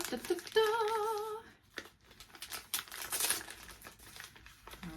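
Crinkling of plastic gift wrapping being handled and pulled open, broken into short bursts, with a brief voice heard at the very start.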